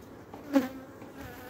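A honeybee colony in an opened hive during a winter check gives off a low, steady buzz, with one bee passing close for a louder moment in the middle.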